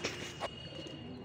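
Pigeons coo softly in a short burst, close and alone, with no voices over them.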